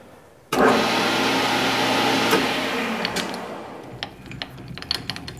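A metal lathe spun up to 720 RPM with a carbide tool cutting a workpiece, a steady broadband machining whir starting abruptly and holding, then thinning into scattered ticks and scrapes near the end.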